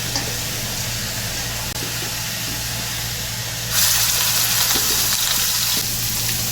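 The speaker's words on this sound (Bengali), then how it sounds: "এই সাইডে আমি মাছটা ফ্রাই করে নেব" Rohu fish sizzling steadily in hot oil in a wok, a continuous close frying hiss that grows louder and brighter partway through, with no talking.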